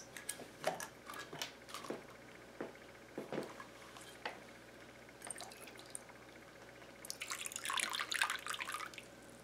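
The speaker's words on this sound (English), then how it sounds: "Now we're going to get 1/2 a cup of water and add this to our mix." Half a cup of water is poured into a spice mix for sweet and spicy pepperettes, with a few scattered clinks and drips followed by a short, brighter splashing pour near the end, quiet and close.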